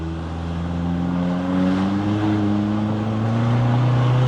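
A tuned Toyota 1.9 diesel car on a test drive, its engine humming steadily up close and slowly rising in pitch as it pulls, with no one talking.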